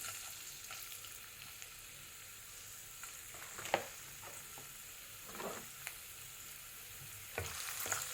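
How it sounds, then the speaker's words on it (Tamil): Ginger and garlic sauté in a pan for egg rice, a steady close sizzle with occasional clinks and scrapes of a stirring spoon. "இஞ்சியும் பூண்டையும் கொஞ்சம் நல்லா வதக்கிட்டு"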